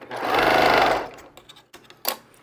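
A sewing machine stitches quilt pieces in one loud, fast burst lasting about a second, followed by quieter handling clicks and the rustle of fabric.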